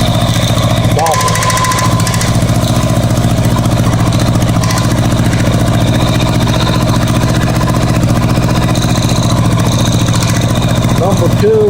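A Honda Goldwing GL1100 motorcycle engine idling with a rattling noise, a loud, steady, close-up low-pitched drone that holds unbroken throughout.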